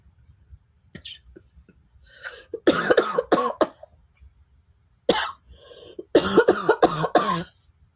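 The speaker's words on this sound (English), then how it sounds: "I'm just coughing." Someone coughs repeatedly in harsh, close bursts, a few isolated coughs followed by two longer fits of hacking.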